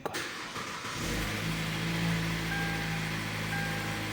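A Kia Sportage engine cranks briefly, then catches and settles into a steady idle, close by.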